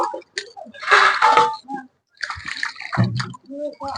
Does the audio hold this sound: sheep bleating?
no